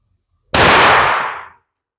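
A single loud, sharp gunshot cracks out up close, followed by about a second of decaying echo, as CCI and Magtech ammunition is tested in a finicky gun. Nobody speaks.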